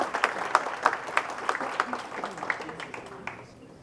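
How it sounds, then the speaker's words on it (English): A breakfast event audience applauds veterans with rhythmic, fairly close clapping that gradually thins and fades out toward the end. "just a round of applause for the veterans and everything that you all do."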